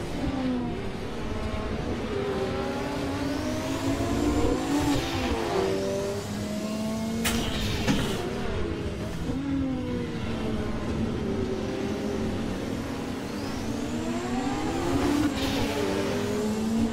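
A Ford race car engine, later a Formula One motor, revving hard during a race. The pitch climbs and drops through repeated gear changes over a steady roaring drone, with no talk.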